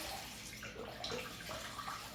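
Cold water running from a kitchen tap into a sink, a steady close splashing wash that holds at even strength throughout with no voices.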